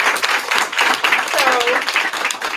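Crowd applause at a community event, a dense steady patter of many hands clapping throughout, with voices audible underneath.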